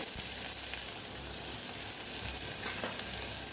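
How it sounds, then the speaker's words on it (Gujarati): Onion sautés in hot ghee with cumin for a Kathiyawadi moong dal, giving a steady, close sizzling hiss that runs evenly throughout without any talk. "ડુંગળીને આપણે સાતળી લેવાની છે।"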